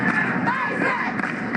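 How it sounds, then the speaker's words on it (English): Texas crowd chanting in unison at a Little League World Series baseball game, a loud sustained roar of many voices, close and continuous. "Texas crowd chanting for a base hit"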